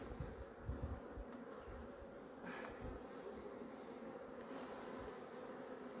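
Honeybees at an open hive being worked by a beekeeper during colony inspection, producing a steady, dense buzzing hum throughout, close and continuous with no speech.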